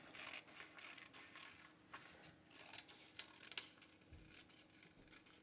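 Scissors snip along the edge of a paper craft tag, faint crisp cuts with a couple of sharper clicks over quiet room noise.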